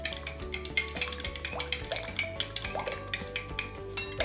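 A whisk or spoon clinks rapidly against a bowl while yogurt and sugar are beaten together, a steady close rhythm of metallic taps and wet stirring.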